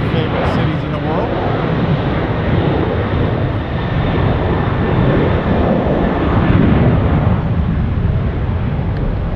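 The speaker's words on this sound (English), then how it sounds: "737 making the 5-hour, 30-minute flight across the United States to San Francisco, California." A Boeing 737 airliner's jet engines roar loudly and steadily at Tampa International Airport, with a broad, continuous rumble and wind buffeting.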